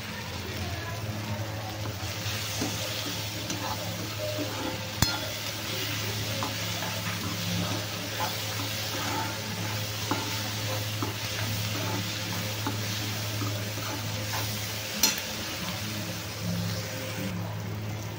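Chopped onions frying with turmeric and salt in a pan for a dried bombil masala, a steady soft sizzle with spoon stirring and occasional clinks, a low hum underneath, and a voice heard at times.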